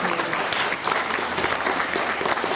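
Brief burst of enthusiastic clapping from an audience at a school reading event, cheering a fifth-grade student reader, steady and fairly close with no voices standing out.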